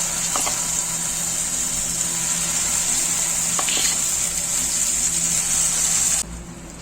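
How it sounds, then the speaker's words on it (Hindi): Ground masala sizzles in hot oil with cumin in a pan during cooking for restaurant-style matar paneer, a steady, bright, close frying hiss that runs unbroken and then drops off sharply near the end. "अब इसमें पिसा हुआ मसाला डाल देंगे"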